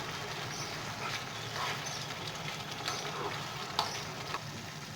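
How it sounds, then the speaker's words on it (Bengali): Rohu fish-head ghonto gravy cooking on full flame, a dense steady bubbling hiss with a few faint clicks and clatters, close but fairly quiet, with no one speaking. "এক মিনিট মতো আমি ফুল ফ্লেমে এটাকে ফুটিয়ে নেব"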